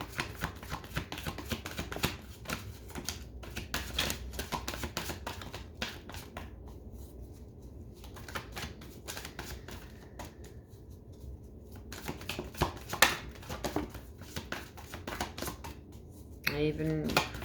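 Angel Oracle cards shuffled by hand during a love reading, a soft repeated riffling and slapping texture running throughout, close and fairly quiet, with a voice talking over parts of it.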